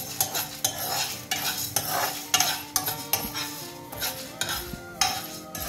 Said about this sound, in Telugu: ఇప్పుడు కందిపప్పు ఎర్రగా అయ్యేంత వరకు దీన్ని మనం వేయించుకుందాం. దీంట్లోకి నూనె వాడలేదు నేను.